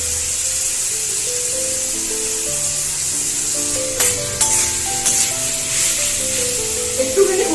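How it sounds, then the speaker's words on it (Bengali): Food sautéing with Maggi masala in a home kitchen pan gives a steady close sizzle and hiss, broken by a few louder stirring scrapes and spits, with a faint voice in the background. "একটুখানি কষিয়ে নিচ্ছি"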